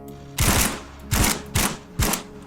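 A Mark 200 machine gun fires 6.5 tracer rounds in Arma 3 in four short, loud, close bursts separated by brief pauses.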